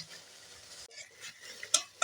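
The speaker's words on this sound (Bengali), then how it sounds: "দেখো বন্ধুরা কত তাড়াতাড়ি ভাজা হয়ে যাচ্ছে আর খুব অল্প তেল খরচ" Cauliflower pakoras frying in a little oil give a soft, close hiss, broken near the end by two sharp metallic clinks of a utensil against the pan.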